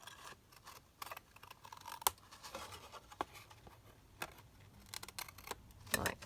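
Scissors snipping through 12x12 paper while a pocket is shaped, quiet irregular cuts and scratchy crisp snips with brief pauses between strokes, close and faint.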